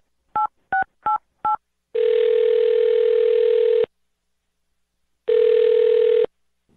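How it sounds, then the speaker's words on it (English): Four short keypad dial tones in quick succession, then two long ringback tones separated by a pause, clean and loud on a telephone line. "I'm going to dial her phone number right now"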